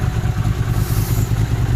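A 1980 Honda CX500 motorcycle engine idling steadily after a front engine cover gasket repair, a loud close low-pitched throb with a fast even pulse and light mechanical clatter, no talking.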